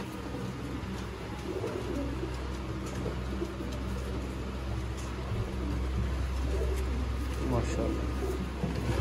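A pair of golden pigeons at a Sialkot pigeon sale coos softly, low and repeated, against a steady outdoor background while someone talks over them.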